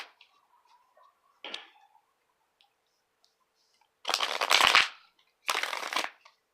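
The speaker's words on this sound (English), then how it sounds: "So I'm just going to do a couple shuffles of these cards as well." Two bursts of crisp, riffling tarot card shuffling, each lasting about a second, preceded by a few faint taps and clicks in a quiet room.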